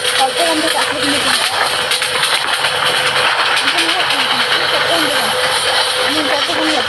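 A train engine in Train Simulator Bangladesh, an AC train coming from Chattogram, rumbles and hisses steadily throughout at close range, with a continuous mechanical drone under background noise.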